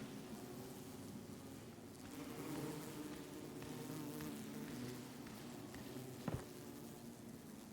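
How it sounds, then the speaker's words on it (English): Bees buzzing in the video game Cairn, a continuous droning hum of insects filling the background at low, steady volume, with a brief sharp knock near the end. "Bees now as well."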